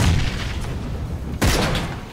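Sharp rifle shots in the shooter game PUBG, one burst at the start and a louder crack about halfway through, punchy and close.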